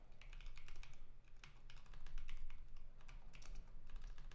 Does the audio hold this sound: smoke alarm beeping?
no